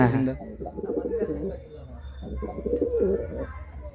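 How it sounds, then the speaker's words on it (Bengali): Pigeons coo in a pigeon loft, soft throaty rolling calls repeating close by while someone talks over them. "এই দেখে নিন পায়রা, পায়রার কোয়ালিটি কিন্তু খুবই হাই।"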